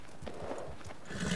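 A horse in the Red Dead video game shuffles and clops with a few soft hoof steps, snorting lightly as it settles, fairly close and alone without talk.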